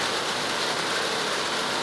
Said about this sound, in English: give yourself over to the rain right now. Hear the rain